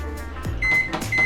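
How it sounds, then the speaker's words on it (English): A microwave oven heating ground beef hums steadily, with short electronic beeps sounding twice over the drone, close by with no talk. "Got some ground beef, throw it in the microwave."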